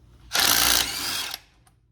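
Impact gun spinning out one of the six 15 millimeter bolts on a Silverado axle, a single loud, steady mechanical whir lasting about a second before cutting off, with no talking.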